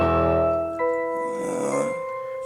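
Heavy, raspy breathing by a rapper in one of his songs, a drawn-out snore-like rasp heard loud and close against sustained musical tones.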